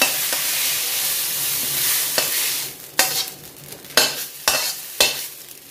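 Stir-fried glass noodles with fish balls, tomato and mushrooms sizzle loudly at first, then are tipped from the pan onto a plate with several sharp metallic scrapes and knocks as the sizzle fades.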